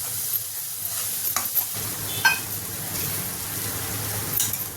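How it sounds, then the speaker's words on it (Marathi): Masala with turmeric and garam masala roasts in a pan, giving a soft, steady sizzle with intermittent scrapes and light clinks of a spoon stirring nearby. "थोडीशी हळद पावडर आणि छान भाजून घ्यायची व्यवस्थित"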